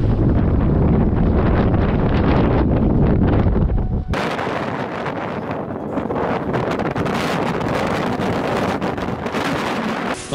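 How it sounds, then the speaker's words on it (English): High winds battering a ridge on Denali, a loud, continuous roar of wind buffeting the microphone, with a sudden drop in intensity partway through before the gusting carries on. "it brought high winds and cold air with it"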